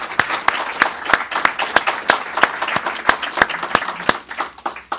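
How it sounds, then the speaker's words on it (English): An audience at a Global Food Traceability Center media event claps for the presenters, a dense burst of many hands with sharp individual claps standing out, steady and fairly close throughout, with no speech over it. "I'd like to give our presenters a round of applause one final time."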